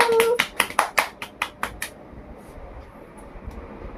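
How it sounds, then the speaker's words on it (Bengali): Hands clapping at a family birthday celebration, about a dozen sharp claps in quick rhythm for the first two seconds, then fading into quiet room hiss. "হ্যাপি বার্থডে হাততালি দে, হাততালি দে।"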